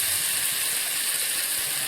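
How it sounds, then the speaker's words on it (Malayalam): Karimeen, pearl spot fish, sizzling in hot coconut oil in a pan, a steady dense crackle and hiss filling the short stretch without pause or talk. "അപ്പോൾ അതിലോട്ട് നമുക്ക് കരിമീൻ ഫ്രൈ ചെയ്യാം."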